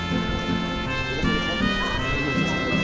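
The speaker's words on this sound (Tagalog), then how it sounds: "Ito ang aso." A dog barks a few times outdoors at evening against a steady background hum with faint tonal sounds.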